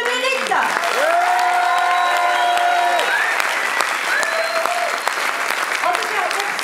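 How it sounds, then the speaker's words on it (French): Audience applause fills the hall after a live musical stage show, steady and continuous throughout, with a few tonal musical or vocal lines sliding over the clapping. "vous pouvez encore les applaudir parce qu'ils le méritent"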